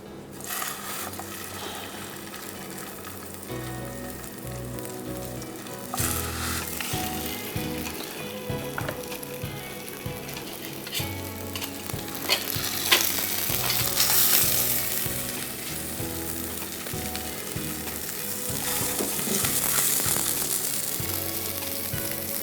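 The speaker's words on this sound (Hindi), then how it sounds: "बटर और ऑयल 1 टेबल स्पून लेना है, और उसमें आपको पैटी आपके फ्राई करने हैं" Keema patties frying in a mix of butter and oil, a steady broadband sizzle running throughout with occasional louder crackling bursts as they cook, close and fairly loud with no talking.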